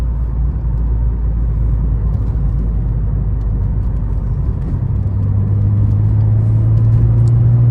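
An Alfa Romeo 155 with a 2.5 engine drives along, giving a steady, loud low rumble heard from inside the cabin, with the engine note rising slightly toward the end.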